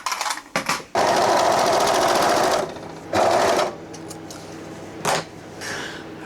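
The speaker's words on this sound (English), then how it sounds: "Let's do the serging first." Serger overlocking black fabric in a sewing workroom, with a loud steady machine whir in bursts of about two seconds and shorter runs between pauses, heard close up with no voices.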